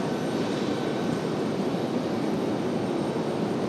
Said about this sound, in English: Heavy back to London Heathrow. Our last heavy departure of the evening.